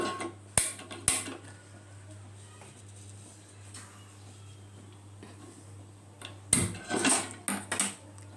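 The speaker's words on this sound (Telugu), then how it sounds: "ఇప్పుడు మనం స్టవ్ ఆన్ చేసుకుందాం" A kitchen stove is switched on and a dosa pan set down, with two sharp clicks early on, then a quiet stretch and a cluster of metallic clatters and knocks near the end.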